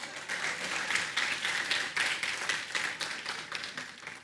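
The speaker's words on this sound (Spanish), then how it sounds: "un aplauso para mí" An audience at a talk applauds in a steady, moderately loud burst, with individual claps faintly audible in a rhythmic texture.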